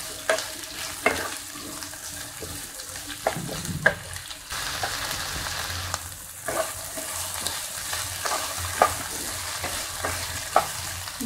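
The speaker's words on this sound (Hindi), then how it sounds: "अब इसमें प्याज डालेंगे और इसको भी अच्छी तरह चलाएंगे" Onions fry in a pan for a raw banana curry, stirred with repeated scraping strokes and clinks over a steady close sizzle; no voices.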